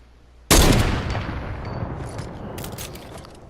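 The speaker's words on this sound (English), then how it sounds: "Now the heavy sniper, remember, bullet drop's not as far." A heavy sniper rifle in Fortnite fires a single loud, sharp shot that booms and then rings out in a long decaying echo, with no talk over it.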